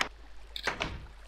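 A secret passage door in the video game Minecraft opens after a button press, giving a short burst of mechanical sliding and clunking sounds, close and fairly loud, with no voices over it.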